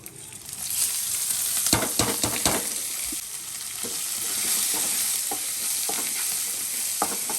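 Curry leaves, fresh coriander and green chillies frying in a pan of hot oil for upma, a steady close sizzle broken by several sharp spatula scrapes and clacks against the pan, with no talking.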